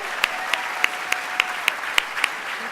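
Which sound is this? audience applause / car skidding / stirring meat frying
audience applause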